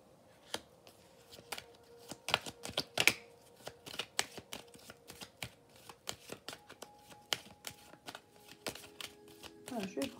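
Oracle cards are handled and shuffled close by, with a quiet, irregular series of crisp flicks, slaps and riffles, each card strike sharp and separate.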